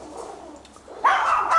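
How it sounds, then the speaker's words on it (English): A dog gives a sharp, rising bark-like yelp nearby after a moment of muffled low noise, with a second strained cry at the end, while fighting a cat. "My dogs are fighting the neighbour's cat."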